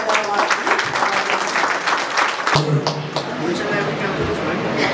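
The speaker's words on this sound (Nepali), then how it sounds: "सबैजनाले मलाई ताली बजाएर स्वागत गर्नु" Applause rises from a congregation welcoming a visiting elder at a weekly church service in Mahabula, Kuwait; brisk clapping fills the first half, then thins under a speaking voice and light murmuring.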